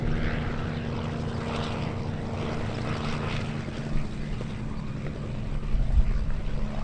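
A Bell 47 helicopter flies at an airshow, its engine making a steady droning hum with a low throbbing beat. It stays at a moderate distance and swells slightly near the end.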